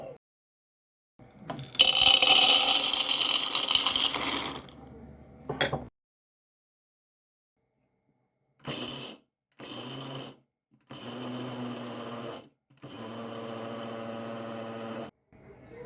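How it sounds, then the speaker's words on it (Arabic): An electric grinder whirs through baklava ingredients in a run of bursts: one long, loud grind of a few seconds, a short blip, then four shorter pulses separated by silence. "اول حاجه غنديروها غنطحنوا المكونات ديالنا، غنطحنوهم مزيان"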